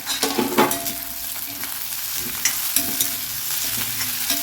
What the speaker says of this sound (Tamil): இது மூணுமே நல்லா வதங்கட்டும்